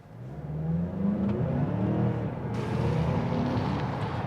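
A 2024 Mazda CX-5 SUV with a 2.5-litre turbocharged four-cylinder pulls hard under full acceleration, its steady engine roar building and sustained close by with no one talking.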